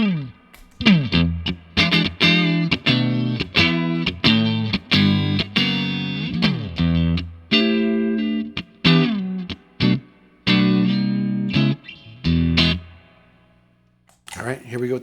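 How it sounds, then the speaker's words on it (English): An electric guitar plays a melodic run of notes and bends, first dry and clean, then through a vibe pedal with a wavering, effected tone, ending abruptly. "I'll play a little dry, just a little bit, and then I'll switch on the pedal"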